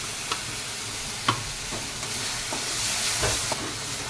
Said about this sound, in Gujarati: અને આપણે બરાબર ફ્રાય કરી લેવાનું છે